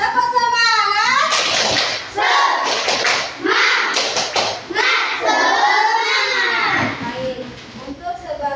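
Schoolchildren in an Indonesian primary classroom shout the rhythmic 'tepuk semangat' clapping chant together, their loud, close voices rising and falling in sung phrases with sharp claps and thumps underneath.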